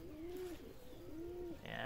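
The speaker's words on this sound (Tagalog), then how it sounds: "Gandang ibon, no?" Pigeon cooing close by, two soft rounded coos in quick succession in a quiet setting, ending with a brief sharper noise.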